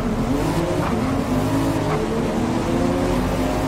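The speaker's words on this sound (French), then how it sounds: "Sortez vos moteurs, démarrez vos moteurs, devrais-je dire" Race car engines roar and rev together at the start of a Forza Motorsport race, a loud, dense, continuous engine drone with rising pitch sweeps and no speech.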